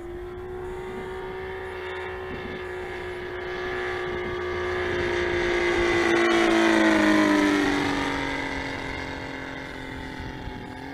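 A Saito FG90 R3 gas engine powers a TF Corsair model plane on a flyby, its steady drone swelling as it nears, then falling in pitch as it passes and recedes, with wind noise.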